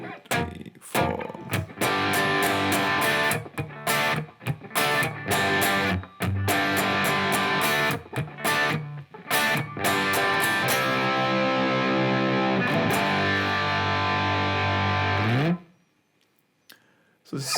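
Distorted electric guitar chugging the pre-chorus riff of a song, G5 power-chord hits in choppy, syncopated bursts with short gaps, loud and close, ending in a ringing sustained chord that cuts to silence.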